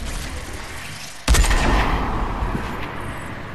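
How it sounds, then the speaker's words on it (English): Laser cannon fire in a video game lands as one sudden loud blast about a second in, followed by a sustained roaring, crackling wash that slowly fades, with no talk. "Well, I shoot this laser cannon at you."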